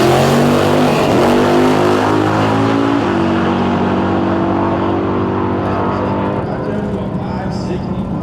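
Ford Mustang drag cars from 1988 and 1990 launch down a drag strip, a loud engine roar rising then settling into a sustained drone that slowly fades as they pull away, with a commentator talking over it.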